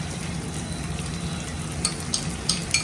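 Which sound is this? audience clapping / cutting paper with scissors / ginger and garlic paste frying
ginger and garlic paste frying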